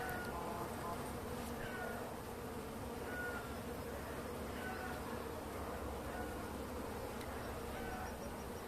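Anatolian honey bees hum densely at their hive as they emerge after winter, a continuous close buzzing swarm with occasional brief higher whines of individual bees passing near.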